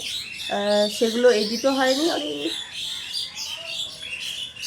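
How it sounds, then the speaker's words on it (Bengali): A few sharp, close bird squawks and chirps ring out in quick succession, followed by fainter twittering beneath someone talking. "এই সকালবেলায় উঠে পাখিগুলো এত কিচিরমিচির করে কি বলবো"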